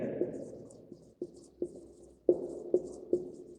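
Writing on a board during a physics lesson on AC generators, with distinct taps and strokes in short bursts, several sharp marks close by and fairly faint, while a voice talks at the start.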